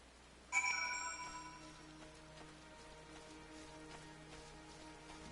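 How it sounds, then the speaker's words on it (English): Rain falling in a Final Fantasy XIV Stormblood game area, a soft steady patter under ringing musical chimes that strike at once and slowly fade. "kind of fitting that it's like raining in this area at the moment"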